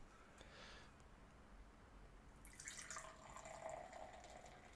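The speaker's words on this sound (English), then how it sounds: "it's the sound of me pouring a beer" A beer poured into a glass: a soft, close liquid hiss and splash begins halfway through and runs to the end, over a quiet room with no talking.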